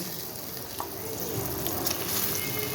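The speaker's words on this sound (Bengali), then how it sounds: "আমি এখন ভেজে রাখা মাছগুলো দিয়ে দেব" Steady, close sizzle of fried tilapia pieces frying in a simmering mustard and poppy seed curry, a continuous hiss with faint clinks, no talking.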